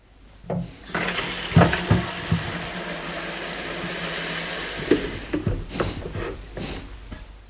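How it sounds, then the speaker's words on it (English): Water pours steadily into a Ridge Monkey plastic drinking water container beside a Swift Kon-Tiki 784 motorhome, a continuous splashing stream with a few clunks and knocks of handling, close by and with no talking. "I'm going to pour that into this Ridge Monkey water container."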